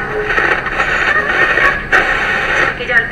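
A Sony portable radio tuned to an FM station plays a news broadcast, a narrow, slightly tinny voice coming through the small speaker at close range.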